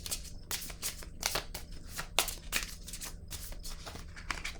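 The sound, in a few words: shuffling and drawing tarot cards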